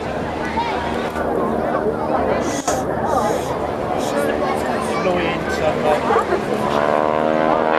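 A display aircraft flies slowly at the English Riviera Airshow 2024, a steady engine drone carried under constant commentary and crowd chatter.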